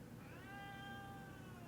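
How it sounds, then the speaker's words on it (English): A hungry cat gives one drawn-out, wavering meow, close by and fairly soft over faint room noise. "And my cat is hungry. I'm going to need to feed her."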